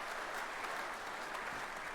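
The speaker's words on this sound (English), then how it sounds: "I'm going to give you a round of applause." A round of applause, steady close clapping sustained evenly throughout without any talk over it.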